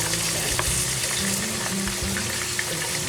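Pork chops sizzle and crackle steadily in a frying pan, a dense, close, continuous hiss with small pops and no talking.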